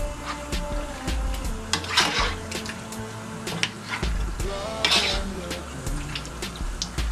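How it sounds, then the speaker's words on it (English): A spoon stirs Jamaican curry shrimp and crabmeat in a pot, with repeated scraping clinks of metal on cookware and a faint sizzle underneath, close by with no talk. "So what I'm going to do is just stir this up a little bit"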